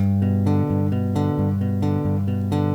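A bass guitar plucks single notes one after another in an even rhythm, an ascending arpeggio, clear and alone without any voices.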